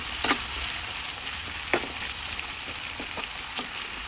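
Bitter gourd (ampalaya) sautés in a pan with a steady, bright sizzle, broken now and then by soft scraping and stirring clicks, close up and without talk.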